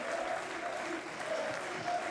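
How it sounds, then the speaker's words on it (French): A stadium crowd at a Coupe de France football match between Etoile Maritime FC and Trélissac FC applauds in tribute, a steady, dense wash of clapping that holds at even loudness throughout. "1 minute d'applaudissement va pouvoir être donnée en hommage à leur ancien entraîneur adjoint"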